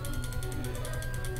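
Fast, regular clicking of a game controller button being pressed over and over during a Dragon Warrior Monsters battle, close and steady against a low mechanical hum.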